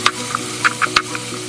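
Butter sizzles faintly in a pot already holding carrots and peas for a chicken pot pie, with a few sharp scraping taps of a spoon at intervals as it is stirred, close and fairly quiet.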